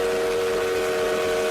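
A steam-style train whistle sound effect plays as a continuous, steady, loud blast filling the short moment, with no talking over it.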